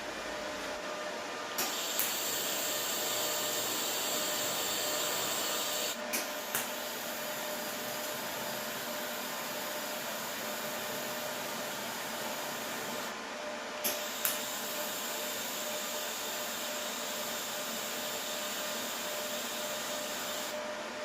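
MIG welding on a steel gate frame, a loud, steady buzzing crackle of the arc that runs for long stretches, broken by two brief pauses where the weld stops and restarts.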